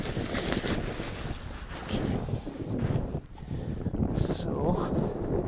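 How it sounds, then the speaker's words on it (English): Wind blowing across a microphone during paramotor setup outdoors, a loud, gusty buffeting rush that rises and falls throughout, with some rustling mixed in. "Feel a decent wind on my neck."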